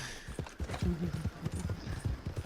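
Horse hooves clopping in a Rockstar video game, a steady rhythmic trot of low thuds under game ambience, moderately close, with someone talking intermittently over it.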